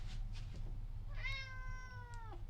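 An indoor cat lets out a single drawn-out meow of about a second, clear and close, over a low steady household hum.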